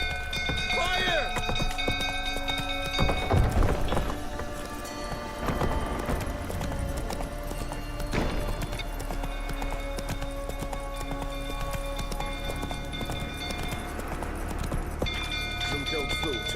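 Roach the horse galloping in The Witcher 3, hooves clip-clopping in a steady rhythm beneath game music, shouted voices and battle noise, with a brief whinny.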